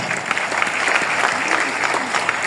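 Steady, dense applause from a seminar audience fills the room, a continuous wash of many hands clapping at even volume throughout.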